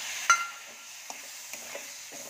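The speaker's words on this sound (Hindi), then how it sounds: "अब हम इसमें ये टमाटो डालेंगे" Tomatoes tipped into masala frying in a pan produce a soft, steady sizzling hiss, a dull clunk at the start, then a few light taps from stirring.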